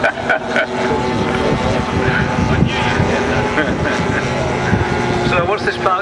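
A blue model triplane flies at a model aircraft show, its buzzing propeller engine droning loudly and steadily with a wavering pitch, while people talk nearby over the noise.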